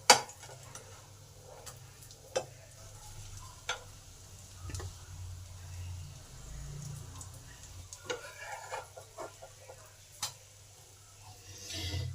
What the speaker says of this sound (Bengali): কম করে তিন মিনিট এক সাইডটা ভাজা হতে দিতে হবে